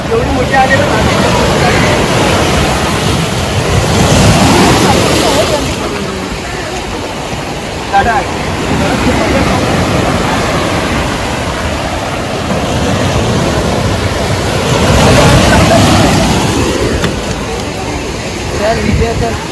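Ocean surf washing onto a beach in Mumbai, a steady loud wash with swells building around five and fifteen seconds, mixed with wind and background noise.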